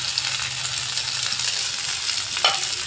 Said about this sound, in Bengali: একটু কাঁচা লঙ্কা দিলাম, তারপরে পেঁয়াজ কুচি দিলাম, টমেটো কুচি, আদা কুচি